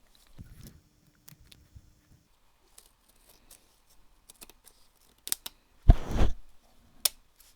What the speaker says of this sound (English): I'm just going to use my scissors to trim that as close as I can to the spine